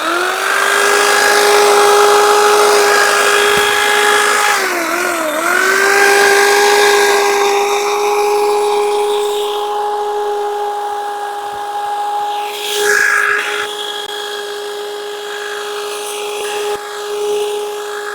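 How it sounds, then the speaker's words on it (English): A power hedge trimmer cuts a garden hedge, giving a loud, steady motor whine that dips briefly under load and then runs on with shifting buzzing tones, close by and without talking. "And I've got to trim all the hedge next."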